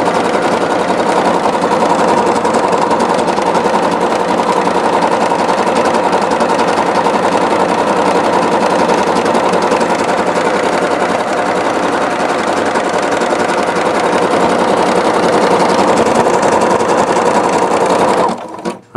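A Singer SEQS 6000 Quartet sewing machine stitches with Sulky metallic thread, giving a loud, close, steady whir that runs without a break for about eighteen seconds, then cuts off abruptly at the end.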